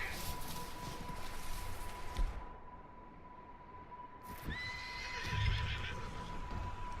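A horse in the Red Dead Redemption 2 video game whinnies near a barn, with a soft clip-clop of hooves under a steady background tone; the neigh rises sharply midway, then low thuds follow.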